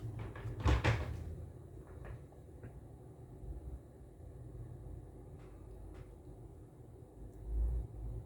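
A workbench drawer slides open with a short rattling scrape near the start as a 470 microfarad capacitor is fetched, followed by a few faint clicks over a low room rumble.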